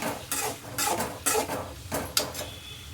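Capsicum vangibath masala being stirred and mixed in a pan, with repeated scraping clinks of a spoon against metal in uneven bursts, close and fairly loud, with no talking.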